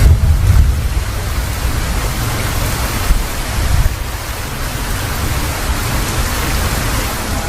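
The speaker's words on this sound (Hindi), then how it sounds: "पैटर मीन्स है साउंड ऑफ रेन।" Soft steady rain pattering on a roof, a continuous even hiss with low rumbling underneath, constant and close without distinct drops standing out.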